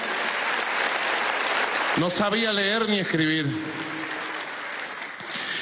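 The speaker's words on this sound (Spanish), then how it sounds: "Vamos a darle un aplauso a María." Applause at a Venezuelan graduation ceremony for María, dense clapping running throughout while a voice speaks loudly over the middle.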